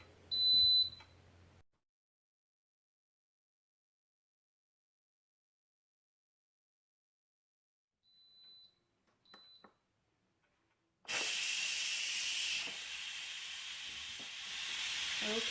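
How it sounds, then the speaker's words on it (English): An Instant Pot electric pressure cooker gives a short beep, then a few faint beeps come after a long quiet gap. A loud, steady hiss of steam follows as the quick pressure release vents. "once that's completed, I'll do a quick pressure release"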